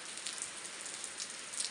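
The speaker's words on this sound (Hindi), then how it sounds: "तो मित्रों खरीक गांव में इतनी बारिश आ गई बाहर," Rain falls steadily in a mountain village in Uttarakhand, a soft, continuous patter with scattered louder drops, fairly faint and with no voices.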